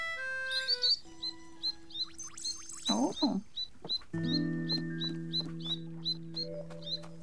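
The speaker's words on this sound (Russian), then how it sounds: "Мы заставили птицу петь." Bird song in the Moomin game Snufkin: Melody of Moominvalley, a run of short, bright repeated chirps at a steady rhythm over soft held musical tones, with a brief voice humming partway through.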